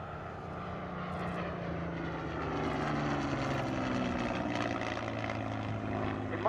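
Propeller aircraft PZ865 flying a display at RAF Cosford, its engine a steady, continuous drone that swells slightly through the middle and holds, with no voices.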